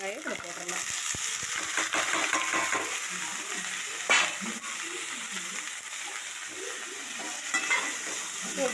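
Sliced snake gourd is tossed into hot oil with softened onions and stirred in a pan, a steady sizzle broken by scraping spoon strokes and a few metallic clinks.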